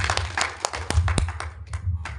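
An audience at a Tamil poetry and debate gathering in Thiruvarur claps in a sparse, uneven way, with a handful of distinct sharp claps over a low murmur of background noise.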